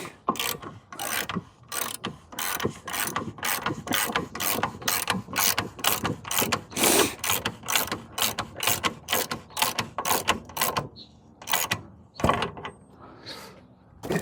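Ratchet wrench tightening a bolt on a Chevy Silverado truck, producing a long, steady run of close, crisp clicking strokes in a quick even rhythm, pausing briefly near the end before a few final clicks; no one speaks.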